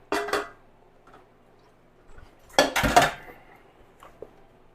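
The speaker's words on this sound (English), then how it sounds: "So I'm going to put these steamed beets in here" Steamed beets dropped into a bowl, two quick clinks followed by a longer run of clattering and scraping against the dish, close and fairly loud in an otherwise quiet kitchen.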